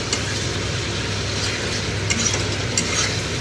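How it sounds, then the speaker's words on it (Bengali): Spices with chili powder stir-fried in a pan at home, a continuous close sizzle with scraping stirs and occasional sharper clinks of the spatula, steady and fairly loud without talk. "দেখো মশলাগুলো সব দিয়েছি, কত সুন্দর কালার এসছে দেখো। ভালো করে কষিয়ে নেব।"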